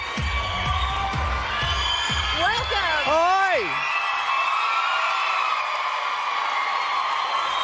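A live television eviction crowd for Big Brother Australia 2007 cheers and whoops loudly and continuously, with shrill rising whistles near the middle and people speaking briefly over the noise at the start.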